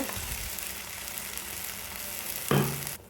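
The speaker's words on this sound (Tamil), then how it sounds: "அதை இந்த மாதிரி கலந்து நல்லா வதக்கி விடுங்க" Ground tomato sautéing with broad beans in a pan, a short close sizzle with a brief stirring scrape and a louder burst near the end before cutting off.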